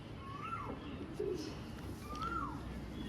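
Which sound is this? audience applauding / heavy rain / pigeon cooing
pigeon cooing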